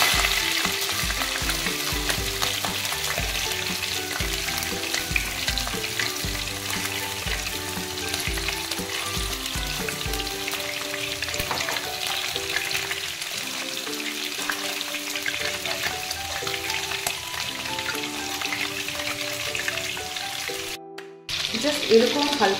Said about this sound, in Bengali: এবার আমি চিংড়িগুলো ফ্রাই করে নেব। আমি বেশি করে ফ্রাই করে নেব।